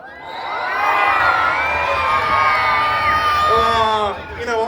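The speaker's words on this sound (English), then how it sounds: "And a cheer from everyone." Crowd of cub scouts, rainbows, explorer scouts, rangers and onlookers cheering loudly at an outdoor scouts parade, a sustained roar of shouts and children's whoops that swells and holds, then dips near the end.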